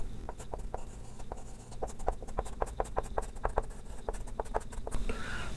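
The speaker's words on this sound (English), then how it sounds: "in bracket write assembly or assembled view" Pen writing on paper during a machine drawing lesson on a sleeve and cotter joint assembly, a close run of quick tapping and scratching strokes in rapid rhythm, with no one speaking.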